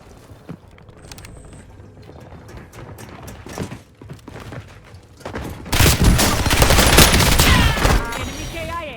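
Battle royale video game gunfire: a few scattered shots early, then a dense, loud burst of sustained automatic fire and fusillade dominating the final seconds.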